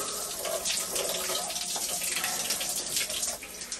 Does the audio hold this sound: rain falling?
no